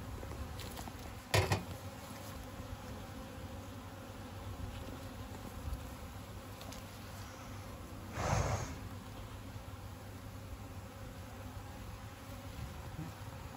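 Honeybees in an opened hive that had swarmed, a soft, low continuous buzz heard close, with a couple of brief handling bumps and rustles and no talk.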